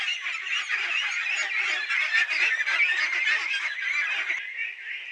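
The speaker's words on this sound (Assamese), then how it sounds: "হাঁহ খোৱা আছে এইটো" Geese honk continuously while eating, a dense, close chorus of overlapping nasal calls from several birds that never pauses.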